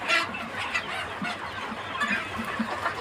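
Chickens and roosters on a farm cluck and chatter continuously, a dense overlapping flock noise with scattered louder calls standing out.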